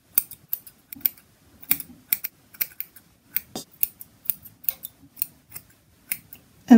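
Scissors snip through hair while someone trims their own bangs, giving a quiet series of short, crisp, irregular cuts in clusters with brief pauses between them and no talking.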